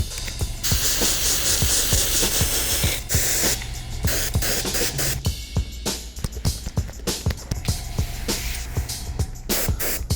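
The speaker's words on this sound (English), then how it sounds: "Let's spray it." Gray paint hisses from a spray gun onto a custom leather sneaker in loud, close bursts of varying length, broken by short pauses and sharp clicks.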